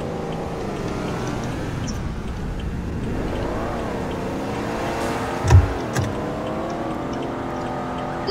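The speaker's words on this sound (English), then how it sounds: "This BMW is pretty quick, judging how old it is." A BMW car drives in the Roblox game Greenville, its engine a continuous hum with shifting pitch as it accelerates, plus one brief low thump.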